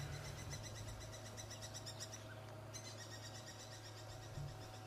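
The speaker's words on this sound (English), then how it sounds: "I don't know if I can see this bird that's making a noise." An owl or other bird calls faintly in the distance on an early-morning safari drive, repeated soft notes nearly buried under steady vehicle engine rumble and hiss.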